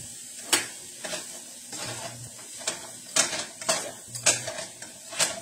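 Turkey sausage frying in a pan, stirred at intervals: a steady soft sizzle underneath repeated sharp scraping clicks of a utensil against the pan, close and moderately loud, with no talking.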